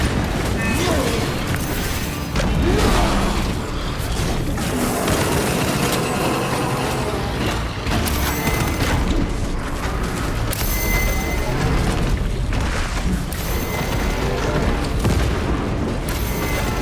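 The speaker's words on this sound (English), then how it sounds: "Frag grenade out." A frag grenade detonates amid continuous heavy combat noise in Warhammer 40,000: Space Marine 2, the booming blasts and mechanical clanks filling the whole stretch while voices speak over the din.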